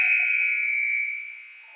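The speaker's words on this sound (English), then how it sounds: "We have buzzer number 1." A period-end buzzer sounds at a junior ice hockey game. The steady, loud electronic blare holds for nearly two seconds, then begins to fade.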